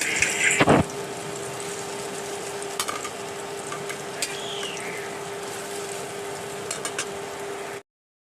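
Chana dal fritters (bora) fry in hot oil, a steady soft sizzle running throughout with a louder burst near the start and a few faint clinks, no talking.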